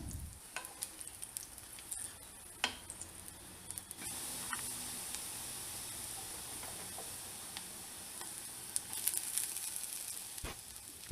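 Oil sizzles and hisses steadily as chopped garlic and ginger fry in a pan, with occasional crackles and spatters, close up and without talking.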